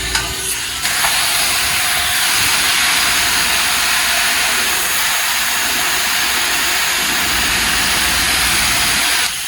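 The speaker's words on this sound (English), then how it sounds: "Let me go rinse, clear out the lines, and then see if the wax works." A car wash rinse spray blasting water to clear out the lines in a bay above an underground motor room: a loud, continuous roaring hiss that carries on steadily and alone throughout.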